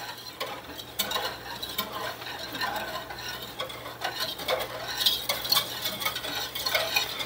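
A whisk works chocolate cream pie filling in a pot, making rapid, uneven clinks and scrapes against the metal that build in intensity toward the end, with no talking.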